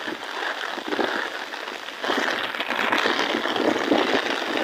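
Steady rain pours outdoors beside a canal bank, a dense, continuous hiss that swells slightly louder partway through, with no voices over it.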